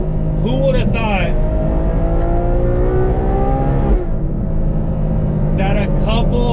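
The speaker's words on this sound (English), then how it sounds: "I'm gonna enjoy the sound of this glorious V12 now" Ferrari 812 Superfast V12 with aftermarket mufflers and exhaust valves removed, revving hard and loud from inside the car with windows up; rising and falling engine pitch sustained throughout, with a person speaking over the roar.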